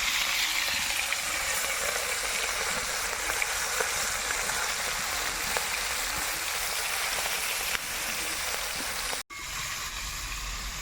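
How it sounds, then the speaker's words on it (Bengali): Shrimp frying in a pan, a dense, even hiss of sizzling oil that runs nearly unbroken for about eleven seconds, with a brief drop-out near the end. "চিংড়িগুলোকে ভেজে নেব"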